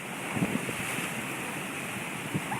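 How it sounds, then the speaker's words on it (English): Hurricane Sandy's storm surge on the north shore of Long Island: steady roaring wind and washing waves form a broad rushing wash, with a few brief splashing surges standing out near the start and end. "where the surge is coming in and flooding"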